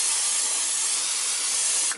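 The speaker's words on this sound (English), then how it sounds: "now I'm going to spray my other pan, the bottom of it." Cooking oil spray hisses onto the bottom of a baking pan for a cereal marshmallow treat, one close, steady two-second burst that cuts off sharply at the end.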